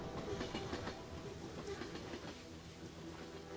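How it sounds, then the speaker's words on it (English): A train rumbles past in the video game Get Even, a steady rolling roar with rhythmic clickety-clack of wheels on rails, sustained and fairly faint throughout. "Maybe he's supposed to wait for, like, the sound of the train to come past."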